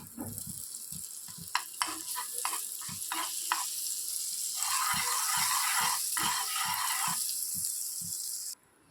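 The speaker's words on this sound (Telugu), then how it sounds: "ఇప్పుడు దీని మీద లైట్గా బటర్ అనేది అప్లై చేస్తున్నా" Butter melts on a hot pan before bread goes in for frying, giving a close frying hiss with a run of clicking knocks and scrapes, then a louder sizzle that cuts off near the end.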